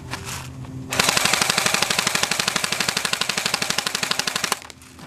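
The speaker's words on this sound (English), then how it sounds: "you went full auto and held it with one hand" A full-auto burst from an Echo1 X36C held with one hand: a continuous rapid stream of shots lasting about three and a half seconds, loud and close, with no talking.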